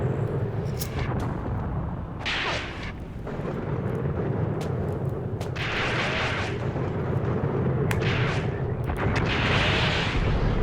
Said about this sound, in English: Just pinging rounds off the Panzer II.